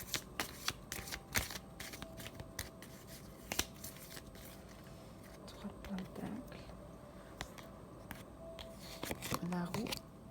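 Tarot cards are shuffled by hand in a run of quick riffling flutters and soft slaps, close and fairly quiet, with a voice speaking in the background.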